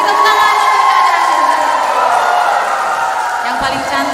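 Audience crowd at a Sunday school vocal group contest in a church hall cheers and whoops loudly and continuously, a dense roar of many voices with shouts from children.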